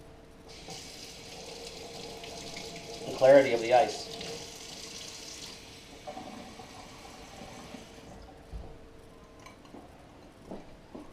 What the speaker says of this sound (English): I'm going to put a little water in this glass